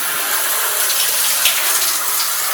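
Water runs and splashes close by during a bath, a loud, even rush like a tap or bathtub filling, continuous throughout with no speech.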